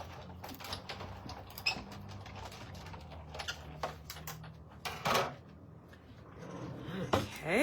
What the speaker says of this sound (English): Let me just put it through my die cutting machine.